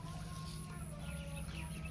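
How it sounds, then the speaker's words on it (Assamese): Young ducklings in a village yard give soft, busy peeping and chirping calls. The quiet chatter blends with steady outdoor background noise, and a person speaks over it. "আৰু এইখিনি আহিলে হাঁহ পোৱালি, এইখিনি চাওক"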